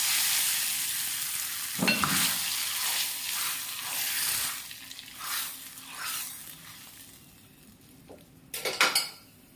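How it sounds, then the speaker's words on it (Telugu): Tempering for dal sizzles in a pan, close loud frying hiss in waves with clinks of a spoon against metal and a sharp clatter near the end, no talk. "ఇక పప్పుకైతే పోపు వేస్తానండి."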